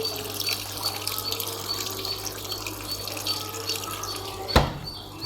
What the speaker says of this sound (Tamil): ஜஸ்ட்டு வாட்டர் ஆன் பண்ணிவிட்டு வாட்டர் மட்டும் நமக்கு வந்துட்டுருக்கு